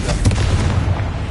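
A Confringo fire spell in Hogwarts Legacy bursts with a loud, rumbling blast, a deep boom that rolls on through the whole moment with a heavy low-end roar.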